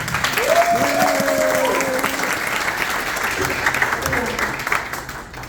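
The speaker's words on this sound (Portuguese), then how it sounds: "Primeiro, uma salva de palmas" Audience applause at a Notion community education talk, a steady wash of clapping lasting several seconds, with a voice speaking over it partway through.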